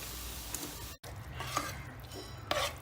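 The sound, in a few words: stirring and roasting masala in a pan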